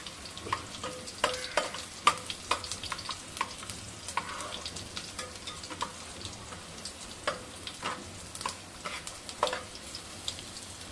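Garlic sizzles and crackles in hot oil in a pan, being browned for katachi amti, a Marathi lentil curry: a steady soft fry dotted with sharp pops and ticks throughout, close up, with no one talking.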